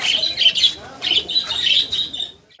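Pigeons at a crowded outdoor pigeon market in Saruliya squawk and chirp close by, with bursts of wing flapping mixed into the busy, loud calls.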